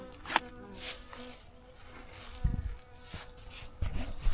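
Honey bees at an opened double-deep hive being readied for winter, a steady close insect buzz with a few louder passes near the microphone and some handling thumps, no talking.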